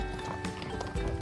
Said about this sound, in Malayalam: കുറച്ച് ഡേഞ്ചറസ് വഴികളിൽ കൂടെയൊക്കെയാണ് നമ്മൾ കുതിര പോയിക്കൊണ്ടിരിക്കുന്നത്